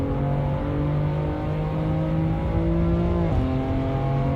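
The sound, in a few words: McLaren race car engine downshifting, from video game Assetto Corsa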